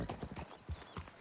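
Horse hooves clip-clop in Red Dead Redemption II, a steady run of soft rhythmic thuds at moderate distance, with faint background sound and no speech.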